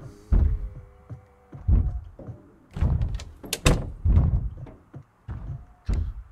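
Repeated heavy thuds and bangs of a door being shut and struggled with in Project Zomboid, a series of close, loud knocks in uneven rhythm.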